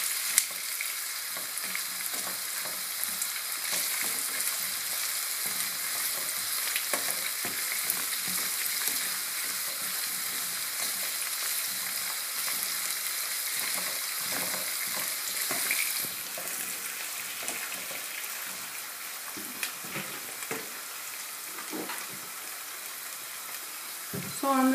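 Onions and minced meat fry in a pan with a steady, busy sizzle and crackle throughout, occasional stirring scrapes, and a voice talking softly over the cooking now and then.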